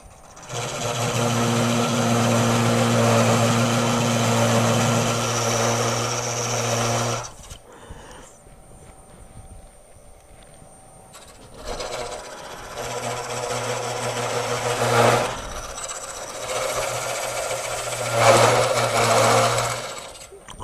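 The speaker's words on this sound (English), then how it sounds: "It's coming along good, but it's shaking my whole lathe." A wood lathe turning dry material, running hard enough to shake the machine, drones loudly with a rough, steady hum, cuts out abruptly for several seconds, then comes back in uneven bursts.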